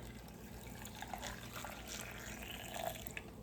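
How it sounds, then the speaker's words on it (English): Warm water trickles and pours quietly into a blender, with a soft liquid gurgle and a few small splashes, faint and close by. "So we're gonna pour it in our blender."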